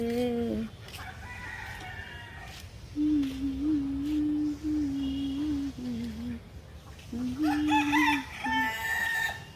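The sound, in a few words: chicken calling, rooster crowing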